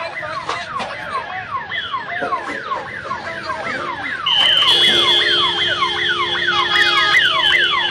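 A fire brigade siren at a blaze in Jammu and Kashmir wails in steady, rapidly repeating rising-and-falling sweeps, fairly close and loud, with a second steady high tone joining halfway through and continuing alongside the wail.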